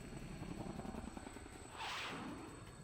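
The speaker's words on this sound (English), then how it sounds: "the helicopter makes a sharp turn" A helicopter in the Persona 4 Arena Ultimax video game gives a steady, low rotor rumble that holds for about three seconds, then swells louder with a brighter whoosh toward the end.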